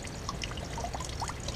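Old blue glycol coolant draining from a 2014 Yamaha R6 motorcycle, a steady close-up pour and trickle of liquid with small splashes and drips on top.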